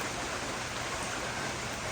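A creek beside the Toccoa River trail flows in a steady, even broadband rush, close and continuous with no other sounds.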